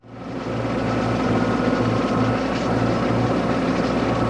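A tractor engine drones continuously while mowing, a steady mid-low mechanical hum with a faint rhythmic pulse, fairly close and uninterrupted, with no voices.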